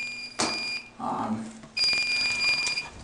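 Apartment building fire alarm sounding in loud, sustained electronic tones, broken by a short pause before it resumes.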